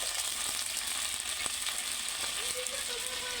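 Chopped onion, garlic and turmeric frying in a pot, a steady close hiss of oil with faint crackles and a brief scrape of stirring.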